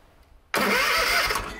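After a brief quiet moment, the engine of a Ferris ProCut mower cranks over, and an abrupt, loud, steady whirring churn holds through to the end.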